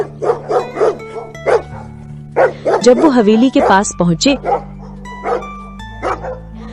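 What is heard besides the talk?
dogs barking at night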